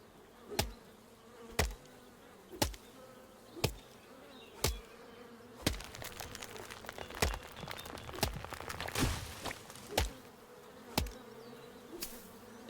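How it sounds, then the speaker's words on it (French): Bees buzz faintly near a tree in the video game Chop Chop Inc., a low hum under a regular series of sharp thuds and a burst of crunching in the middle. "Il y a des abeilles aussi. Donc faut pas toucher à cet arbre là à mon avis."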